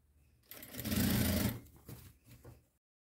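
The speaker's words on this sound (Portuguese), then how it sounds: "vou começar a costurar o elástico aqui" A sewing machine stitches elastic onto a dress, running in one steady burst of about a second, then a few shorter, quieter runs as the fabric is adjusted, with no talk over it.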